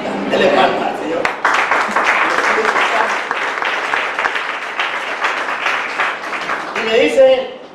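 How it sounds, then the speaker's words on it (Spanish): A congregation claps for the Lord during a sermon on ministerial faithfulness, loud and close, a sustained burst of many hands with a few scattered voices and a brief lull near the start before it swells again. "Dele palmas al Señor."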